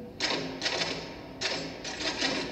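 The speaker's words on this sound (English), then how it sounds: "Whenever I'm in here, you hear me typing." A manual typewriter clatters in quick bursts of rapid keystrokes, two groups of dense mechanical clicking separated by a short pause, close and steady, in the tense domestic setting of The Shining.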